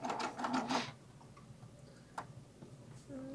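A Baby Lock serger sewing machine stitches in a brief rapid ticking burst, followed by quieter pauses with faint clicks and a soft voice.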